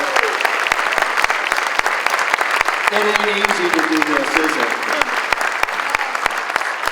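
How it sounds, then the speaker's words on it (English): Audience applause for Jeff, Tanya and Aaliyah at a Be a Rock 2023 event: a dense, steady wash of clapping filling the whole stretch, with a voice talking over it partway through. "can we have a big round of applause for Jeff and Tanya and Aaliyah?"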